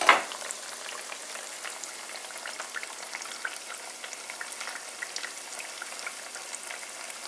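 Breaded eggplant pieces fry in oil in a frying pan, a steady close sizzle with crackling pops throughout, no talking.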